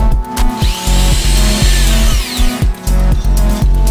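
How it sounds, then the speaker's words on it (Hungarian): A power drill with a 3.5 mm bit whirs loudly and close up in a garden workshop during caving expedition preparations, with the motor revving in short repeated bursts and pausing briefly between them. "Na, fúrhatjuk."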